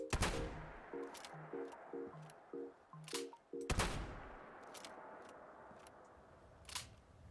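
Single-barrel shotgun in Fallout 4 reloaded and fired: a run of small clicking shell-loading and mechanical clacks, then a loud blast near the middle and a few more sharp shots and clanks after.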